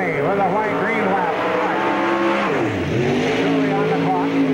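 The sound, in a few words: late model race car racing at Spoon River Speedway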